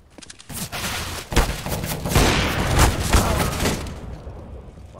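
Rapid bursts of gunfire fill a Counter-Strike: Global Offensive match, with dense overlapping shots and booming impacts that run continuously and loud, with no speech.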